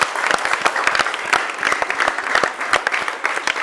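Classroom applause for the winner of a class 4 English debate, a dense burst of many hands clapping at close range, steady and unbroken without talk.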